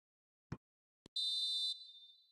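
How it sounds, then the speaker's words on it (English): A referee's whistle blown for half-time in a FIFA football match: two short taps, then one long shrill blast that fades away, with near silence around it. "Referee's had a look, and he's blown his whistle for half-time"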